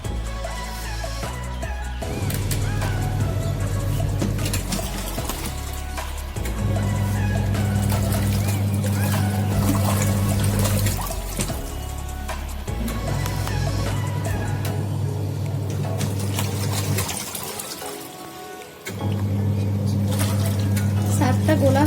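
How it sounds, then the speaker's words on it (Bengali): An automatic washing machine churns water to dissolve detergent, a loud, steady motor drone with sloshing that cycles on and off in long runs and pauses briefly near the end, close by. "এবারে সার্ফটা জলের মধ্যে গুলে নেওয়ার জন্য আমি এটাকে 1 মিনিট মতো চালিয়ে দেবো"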